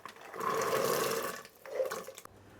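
Black chickpeas (kala chana) bubbling in a cooking pot, a close, steady wet simmer with two longer stretches of gurgling separated by a brief lull, and no voices.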